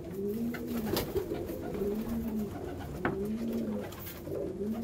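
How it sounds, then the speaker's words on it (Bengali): A Pulsar breed pigeon coos in repeated low, rolling phrases about every second or two, close and clear over a faint room background. "একটা পালসার পায়রা"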